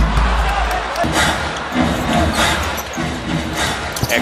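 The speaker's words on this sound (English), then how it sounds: "Here's the crowd." Basketball arena crowd at an NBA game between the Oklahoma City Thunder and Utah Jazz, a loud, dense roar of many voices with rising swells, sustained throughout.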